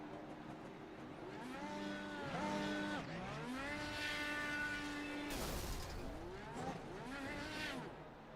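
Race cars at the Indianapolis 500 roar past at a distance, their engine notes rising and falling in overlapping sweeping pitches, with a louder whoosh midway as one passes nearer.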